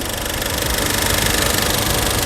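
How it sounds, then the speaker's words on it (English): A 2006 Nissan Frontier XE King Cab's 4-cylinder engine idles steadily as it warms up, a close, even, continuous rumble with a faint rhythmic ticking and no pauses. "the engine's getting warmed up, so it's getting more quiet"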